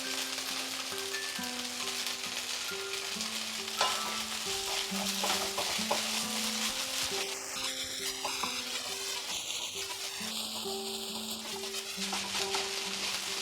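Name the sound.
oats pulao being stirred and cooked in pan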